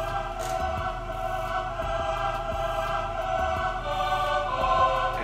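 A single sustained choir layer from a hip-hop beat, smooth held chords over a soft, steady low pulse, with no voices talking.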